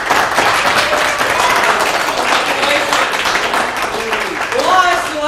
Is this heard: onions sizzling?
no